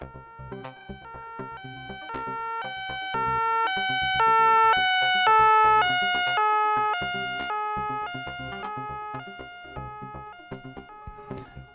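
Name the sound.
police sirens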